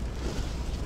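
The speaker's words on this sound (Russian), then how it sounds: "Ветер ужасный." Strong wind gusts buffet the microphone in a steady, loud broadband roar outdoors in winter, lasting without a break and with no voices.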